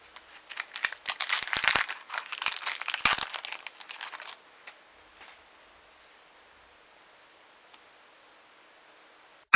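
Foil wrapper of a Magic: the Gathering Core Set 2015 booster pack crinkled and torn open up close, a loud burst of crackling rustles for about four seconds, then near silence.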